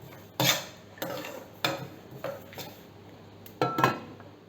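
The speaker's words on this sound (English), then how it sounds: "So I'm going to put this in the pan now, and we will roast it on a very low flame, and we will also put a lid on it." Washed lentils tipped into a metal pan, then a lid set on while making South Indian idli podi: a few clattering metal knocks and scrapes spaced through the passage, close and fairly loud, with no talking.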